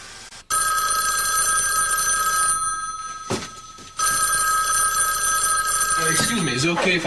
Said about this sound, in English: Excuse me, is it okay if I answer the phone?